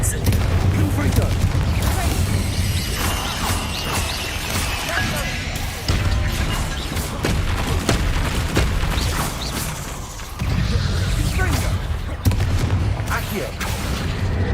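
Fire and blasting spells fire in Hogwarts Legacy: rapid bursts, booms and crashes follow each other in dense volleys, with loud sharp impacts repeating every second or two throughout.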